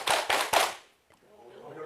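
An audience claps in unison, three quick loud group claps in a row followed by silence and faint room sound.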